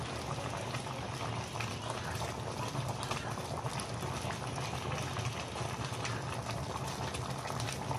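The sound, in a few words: coconut milk boiling with tilapia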